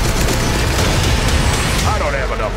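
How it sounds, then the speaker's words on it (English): Loud, dense gunfire and booming blasts from a Transformers: The Last Knight movie trailer, a continuous heavy barrage with a voice speaking over the end. "Gunfire!"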